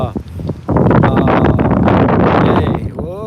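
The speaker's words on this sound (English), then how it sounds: "it's getting windy" Loud gusts of wind buffet the microphone with rumbling bursts while a person talks over it outdoors.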